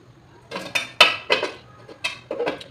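Metal pot and lid clanking as a cover goes onto a pot of simmering Filipino chicken tinola, several sharp clinks and rattles in a row, close and fairly loud with no talking.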